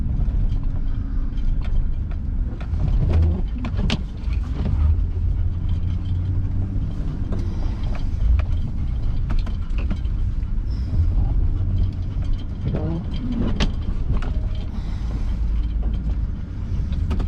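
A snow plow truck turns around in Minocqua, Wisconsin, a steady low engine rumble with creaks and mechanical clunks from the plow rig, continuous and close throughout.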